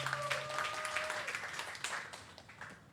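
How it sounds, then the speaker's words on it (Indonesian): Audience applause at a digital marketing seminar, a steady wash of clapping from a seated crowd that fills the short stretch at moderate volume, with faint tonal lines early on and no talking over it. "Tepuk tangan dulu untuk kita semua Bapak Ibu."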